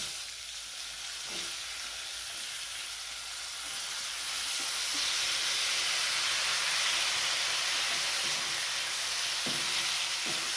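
Green beans roast in hot oil with black masala, a steady loud sizzle and hiss throughout, broken by faint stirring clicks and scrapes.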